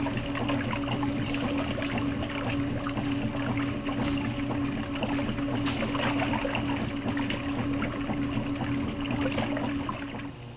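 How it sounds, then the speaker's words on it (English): Water sloshes and splashes inside a KitchenAid direct drive top load washer during a load of cotton shirts, a continuous churning swish with a steady motor hum underneath, close and even in level. "I'll let you listen to this so you could hear the water splashing around."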